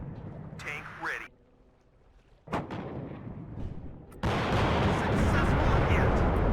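Tank cannon fire in the Cold War strategy game WARNO, with a sharp boom followed by loud, sustained rumbling battle noise, and voices talking between shots.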